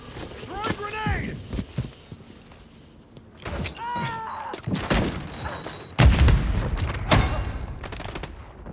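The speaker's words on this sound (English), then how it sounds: "Throwing grenade!" A grenade blast in the shooter Call of Duty lands as a heavy booming crack amid scattered gunshots and game voice callouts, with the explosion rumbling loudly near the end.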